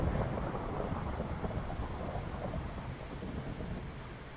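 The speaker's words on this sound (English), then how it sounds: "Rain again." Rain and thunder during a thunderstorm in a video game: a steady wash of rainfall with deep low rumbling throughout, moderately loud and continuous, gradually easing toward the end, with no voices.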